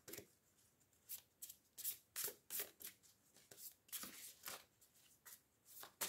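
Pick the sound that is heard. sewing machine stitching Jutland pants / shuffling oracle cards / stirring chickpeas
shuffling oracle cards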